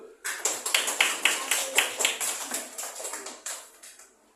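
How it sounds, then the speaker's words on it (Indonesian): A classroom group claps together during a lesson, a run of sharp, rhythmic hand claps in quick succession that holds steady and then tapers off near the end, with no talk over it. "Tepuk tangan dulu."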